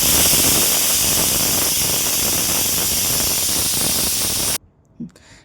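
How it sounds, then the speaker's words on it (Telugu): A pressure cooker of chicken and drumstick curry lets out loud, steady steam hissing for about four and a half seconds, then cuts off abruptly, leaving near silence with a faint knock. "మూత పెట్టి కుక్కర్ని ఒక రెండే రెండు విజిల్స్ రానివ్వండి"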